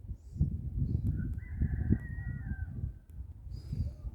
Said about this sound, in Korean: 닭이 우는 소리가